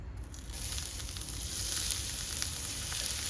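Chopped onions hit hot olive oil in a pan outdoors on a chilly day, giving a loud, continuous hissing sizzle that builds slightly and holds steady, with a low rumble beneath and no voices.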